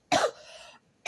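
A single close, loud cough from someone with a lingering cough, a harsh burst followed by a breathy tail, then silence and the start of another sound at the end.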